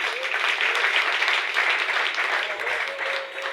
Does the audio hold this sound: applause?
yes